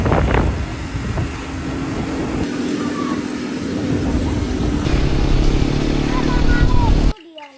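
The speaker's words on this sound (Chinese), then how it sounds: "哎呀，坐摩托车。" A motorcycle ride on Siberut Island in Indonesia's Mentawai region produces a loud, continuous engine and wind rumble that cuts off abruptly at the end, with people talking over it.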